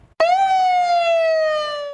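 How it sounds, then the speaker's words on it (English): An emergency vehicle siren starts abruptly and holds a loud, close, bright wailing tone that slowly falls in pitch, heard alone. "For some, sirens might be alarming, but to Asante Contreras, they were a callin"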